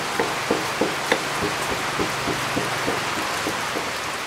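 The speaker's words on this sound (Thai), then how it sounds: "พร้อมกับเสียงฝนที่เข้ามาทักทายอย่างต่อเนื่อง" Rain falls steadily at a village house near Lampang, Thailand, a constant soft patter with a series of regular, distinct knocks or drips on top.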